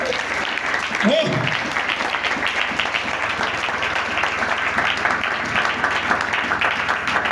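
A church congregation applauds steadily and loudly throughout, a dense continuous wash of clapping with a brief voice near the start.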